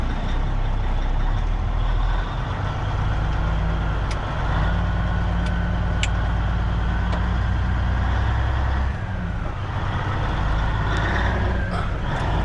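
Day cab semi truck cruising in high gear, a loud, steady low diesel drone from inside the cab with a constant rumble, a few faint high ticks and no talking.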